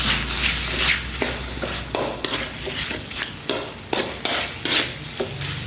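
Goat fried rice stirred in a hot pan after sweet soy sauce is added, with repeated rhythmic scraping strokes over a soft sizzle, close and clear, no talk.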